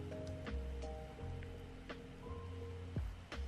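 Steady rain falling in the Minecraft game world, a soft continuous patter with occasional splashy drops and faint background music tones, fairly quiet throughout.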